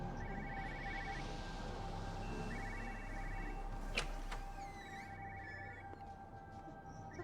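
Telephone ringing in the game Everybody's Gone To The Rapture, repeated short trilling bursts in an even pattern over a low background hum, with a brief sharp knock midway.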